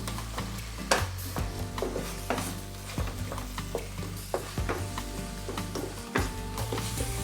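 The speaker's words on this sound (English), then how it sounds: "Try to cook or stir fry your paste until it's cooked well" Thai green curry paste stir-fried with palm sugar for a beef curry, a dense, continuous sizzle with repeated scraping strokes of a spatula against the pan, close and fairly loud, with no talking.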